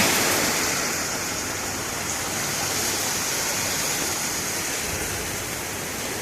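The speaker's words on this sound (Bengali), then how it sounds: "এদিকে ঝড় বৃষ্টি দুটোর দাপটি বাড়ছে" Heavy rain and wind during Cyclone Remal, a dense steady roar of rainfall heard from indoors, loud and unbroken with no voices.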